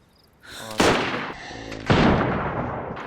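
Two loud, close gunshots in the video game DayZ during a multiplayer PvP firefight, each a sharp crack with a rolling echo tail, about a second apart.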